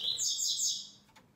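A caged coleiro seedeater songbird gives a short, bright chirping phrase close by, then fades to near silence with a faint extra note.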